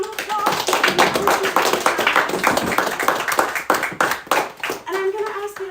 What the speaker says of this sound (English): And everybody, give her a big round of applause.